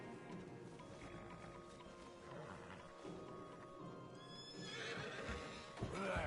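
A horse neighs and whinnies in the video game Red Dead Redemption 2, with hoof clip-clops and ambient game background sound, fairly quiet overall.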